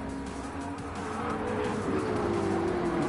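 Race cars in Gran Turismo 7 at Lago Maggiore roar past with a steady, rising engine drone and a pitch that glides downward, loud and continuous over about three seconds with tire noise underneath.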